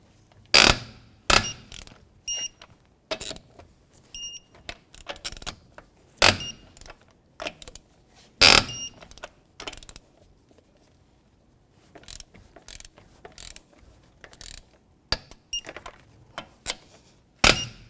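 A torque wrench clicks and ratchets while lug nuts are tightened on a 2008-2012 Jeep Liberty wheel, sharp irregular metallic clicks and bursts with quiet gaps between them, close up and with no talking.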